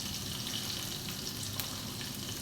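Mustard seeds fry in hot oil for masala bhindi, giving a dense, continuous sizzle with small crackling pops, close and fairly loud, with no talking.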